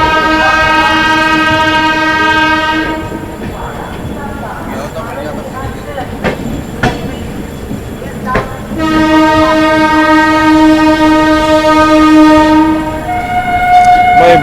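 Indian Railways Humsafar Express train rolling through Ghaziabad station without stopping, with a long, loud horn blaring at the start and again later over the steady rumble and clatter of the moving coaches.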